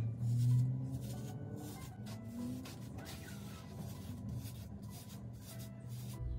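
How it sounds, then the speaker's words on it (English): A brush sweeps through hair being styled into a high bubble-braid ponytail, making soft, steady rhythmic rasping strokes close up and fairly quiet. "notice how as I am brushing, I follow it with my hand like this"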